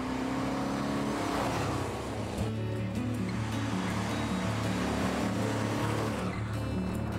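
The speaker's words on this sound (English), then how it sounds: "I've got a Ram Air 4 Pontiac GTO Judge convertible, 4-speed, awesome running," A Ram Air 4 Pontiac GTO Judge convertible muscle car with a 4-speed runs with a steady, throaty engine drone that shifts in pitch partway through, heard close and without talk.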